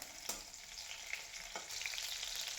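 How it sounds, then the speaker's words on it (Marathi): Green chillies sizzle and spit in hot oil in a pan over a gas flame, giving a steady crackling frying hiss with a couple of brief pops, fairly quiet and with no speech. "तेल चांगलं गरम झाल्यानंतर आता मिरच्या त्यात टाकलेल्या आहेत"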